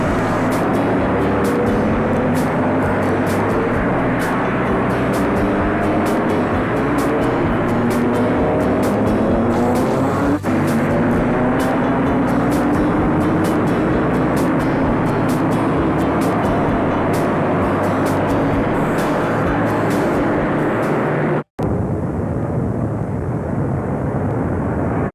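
NASCAR stock cars race around Bristol's short oval in 1990, a loud, continuous engine roar with sweeping pitch rises and falls as cars pass, heavy and close throughout before cutting out abruptly near the end.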